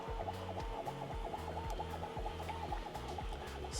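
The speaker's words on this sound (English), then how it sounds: "So while my printer is printing" A Bambu Lab A1 3D printer running a print job, its stepper motors whining in steady, repeating pitch patterns as the head moves, with a continuous mechanical hum throughout and no talking.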